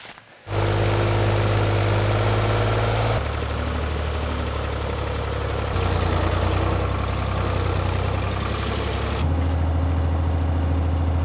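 A loud, steady engine of a roughly 50-year-old tractor chugs and idles continuously, its low rumble shifting pitch slightly a few times, with no voices.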